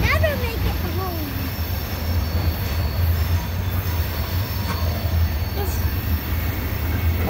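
A long oil tanker freight train rumbles steadily past nearby in Jersey City, its wheels squealing in high, sliding tones over the constant low roar.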